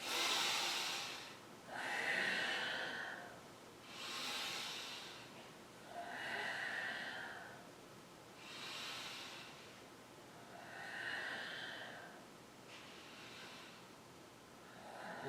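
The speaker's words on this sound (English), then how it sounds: "keep focusing on the breath, coming in and out" Slow, deep breathing during a yoga class, each inhale and exhale a soft airy rush repeating about every two seconds in a steady rhythm, close and quiet, with no talking.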